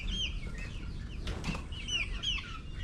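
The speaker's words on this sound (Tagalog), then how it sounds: "Yan po yung mga chicken." Chickens on a farm cluck and chirp softly at a distance, with a brief burst of rustling or wing flapping in the middle over steady background noise.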